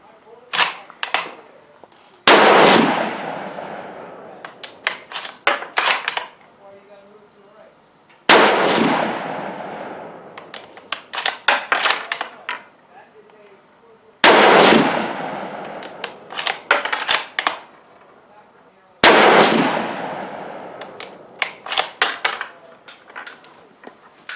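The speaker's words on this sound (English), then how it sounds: "Matt's going to fire a confirmation group, see if he can do a little better on his end and tighten that up a bit" Four loud Savage Axis II rifle shots fired as a confirmation group, each a sharp crack with a decaying echo, spaced about six seconds apart, with clattering handling noises between shots.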